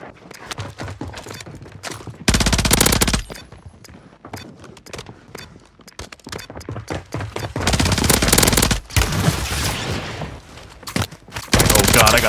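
Rapid bursts from a BP50 rifle in Warzone 3, loud close automatic fire in several separate strings with quieter gaps, light footsteps and movement between them.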